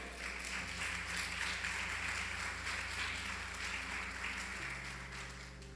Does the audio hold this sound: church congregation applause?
yes